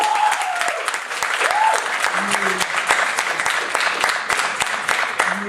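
Audience applause at a Norman Finkelstein talk at Northeastern, a continuous dense patter of clapping from a large room with a voice heard briefly over it.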